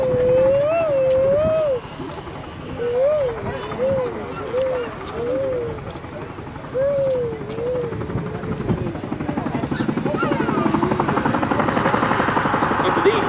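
Boeing CH-47 Chinook twin-rotor helicopter, a steady rotor rumble and thrum beneath a voice talking, with pigeon-like cooing heard early on and the engine noise building toward the end.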